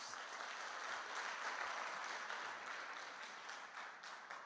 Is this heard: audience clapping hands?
yes